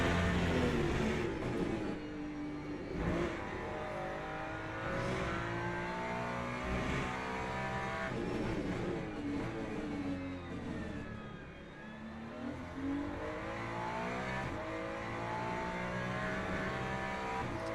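LMGT3 race cars in Le Mans Ultimate roar steadily, with a close engine revving up and down through gear changes while other cars drone around it, loud and continuous with no talk.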